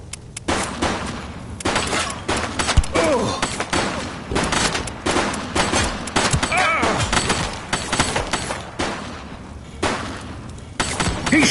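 Gunfire in a video game shootout: rapid bursts of shots crack one after another, loud and close, with glass breaking and shouting voices mixed among them.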